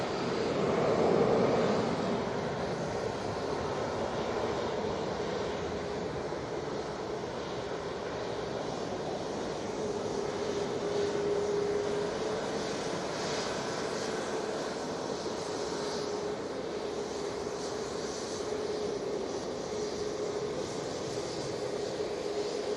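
An EasyJet airliner bound for Belfast takes off from Manchester Airport with a steady, broad engine roar that stays loud and even throughout.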